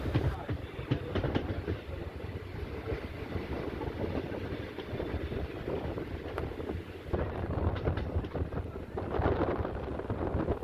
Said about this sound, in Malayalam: അങ്ങനെ ആലപ്പുഴ റെയിൽവേ സ്റ്റേഷനിൽ നിന്ന് ട്രെയിൻ എടുക്കുകയാണ്